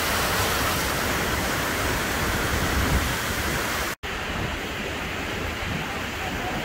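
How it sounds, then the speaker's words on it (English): A raging waterfall in Hidden Valley roars as a loud, steady broadband rush of falling water, close and continuous, with one brief dropout near the end and no talk. "It's still a very nice waterfall."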